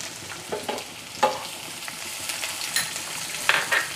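Chopped onion and garlic with green chilli sautéing briefly in a pan for gobi manchurian: a soft, steady sizzle broken by a few scattered spatula scrapes and taps, close and fairly quiet.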